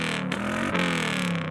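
A Chevrolet Camaro engine revs at a big car show, a loud continuous engine roar that swells and dips slightly through the short burst, with no talk over it.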